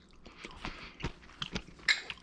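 A homemade kosher dill pickle, still crisp after about a year, is bitten and chewed close up, giving several sharp, wet crunches spaced through a short, quiet moment.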